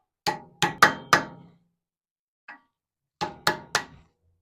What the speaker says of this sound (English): Get your baby hammer. Strike through